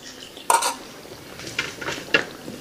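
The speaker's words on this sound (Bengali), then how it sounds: "ভালো করে সব মশলা মিশিয়ে নিচ্ছি মাংসর সাথে।" A spoon clinks and scrapes against a pot as spices are stirred into chicken for a village-style curry: a few distinct metallic knocks and scrapes over a faint, quiet sizzle, close by and without speech.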